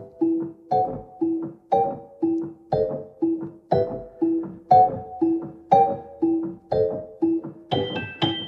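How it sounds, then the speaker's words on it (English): A celeste, the Moonlight Celeste sampled instrument, plays Tchaikovsky's Dance of the Sugar Plum Fairy: a steady run of bright, bell-like struck notes, about two per second, each ringing briefly, heard clearly and alone. "it's probably most rather famously originally used in that Tchaikovsky Dance of the Sugar Plum Fairy."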